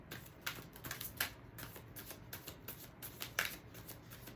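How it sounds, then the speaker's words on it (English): Oracle cards are shuffled by hand in a quiet room, giving soft, close riffling and slapping sounds that repeat in an uneven rhythm. "Let's pull some love oracle cards."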